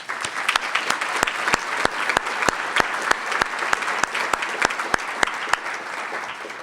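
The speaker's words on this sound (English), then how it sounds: "please join me in offering an especially appreciative round of applause to our sponsors" A luncheon audience at a Portland civic club forum applauds its sponsors, loud sustained clapping from a room full of people, with sharp, evenly spaced claps cutting through the dense roar.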